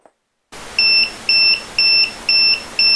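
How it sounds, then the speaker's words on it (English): High-temperature alarm on a Bayite thermostat temperature controller: five loud, evenly spaced electronic beeps, each about a quarter second long, repeating at a steady rhythm close up with no voices. "And there's your high alarm."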